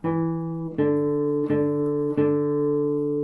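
A plucked guitar plays a short phrase of four ringing notes, each struck about every three-quarters of a second and left to sustain, alone and close.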